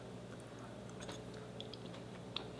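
Quiet close-up chewing of a slice of vegan peanut butter fudge chocolate cake, soft moist mouth sounds with a few tiny clicks over a low background hum, no talking.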